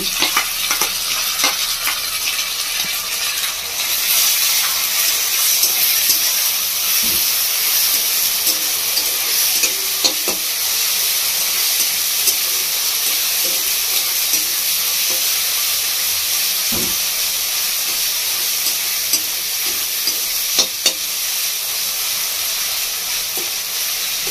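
Ginger, garlic, green chili and black pepper paste sizzles steadily in hot oil in a pan, a continuous close hiss with occasional stirring scrapes and no talking.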